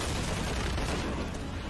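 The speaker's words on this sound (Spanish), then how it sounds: "vamos a empezar aquí a pegar tiros" Dense, continuous gunfire from Shadow of the Tomb Raider, a steady roar of overlapping shots and bursts filling the whole moment with no clear gaps.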